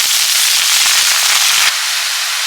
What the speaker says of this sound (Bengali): এবার আলুটা একটু ভাজা হয়ে গেলে শাকগুলো দিয়ে দিচ্ছি